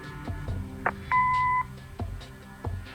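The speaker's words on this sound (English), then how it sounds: "Leave a message after the beep." Answering machine beep in the Kathy Rain point-and-click game, a single clean electronic tone lasting about half a second, set among soft clicks and faint background ambience.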